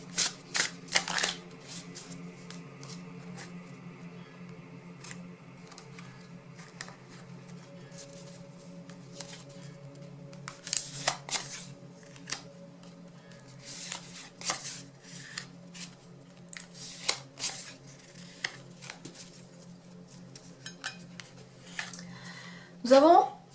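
Tarot cards shuffled close up in repeated crisp riffling bursts with soft slaps between them, while a voice speaks throughout.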